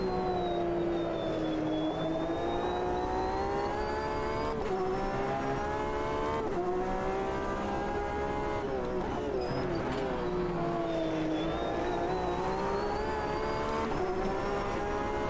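A pack of three Corvette race cars in a racing video game on an American circuit, engines droning at high revs with rising and falling pitch through gear changes, loud and steady, with a driver talking over it.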